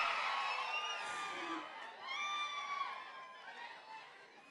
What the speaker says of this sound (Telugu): అండ్ ఇక ఒక్కసారి గట్టిగా చప్పట్లతో మన beautiful and talented Meenakshi చౌదరికి welcome